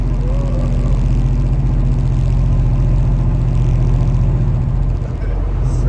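A Cobra car rumbles steadily while driving, its deep, low-toned engine drone and slight vibration humming continuously and close, with a brief dip near the end.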